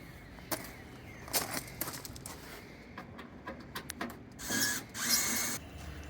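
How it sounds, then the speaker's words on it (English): A power drill backs screws out of the control panel of a Raypak pool heater, with short whirring bursts between soft clicks and handling taps, ending in two longer, louder spins nearby. "Next, you want to remove 4 screws out of the control panel."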